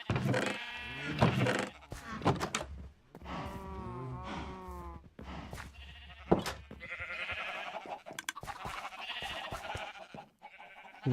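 Sheep in the Minecraft video game bleat repeatedly, many overlapping calls from a sheep farm, loud and continuous across the whole stretch with no talk.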